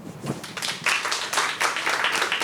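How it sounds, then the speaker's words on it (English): Audience applause at a live Halloween paranormal show in a brewery, a steady wash of many hands clapping that swells partway through and holds for a couple of seconds. "Let's hear applause for people that preferred Better Matt's story."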